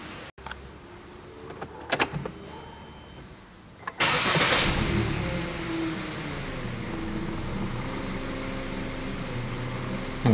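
A 2012 Hyundai Solaris engine that misfires and runs rough starts after a few clicks, then settles into an uneven, steady idle drone, close and moderately loud.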